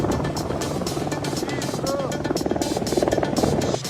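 A tourist helicopter flies over the Floresta da Tijuca in Rio de Janeiro, its steady rotor throb running through the whole stretch beneath voices and background commotion.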